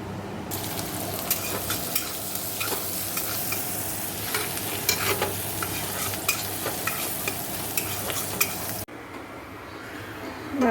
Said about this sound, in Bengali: কড়াইতে একদম অল্প তেল দিয়ে দিয়েছি তো তেলটা গরম হোক একটা ডিমও দেখো এই জন্য নিয়ে নিয়েছি তো আগে গাজরটা দিয়ে দেবো